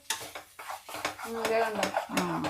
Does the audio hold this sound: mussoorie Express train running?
no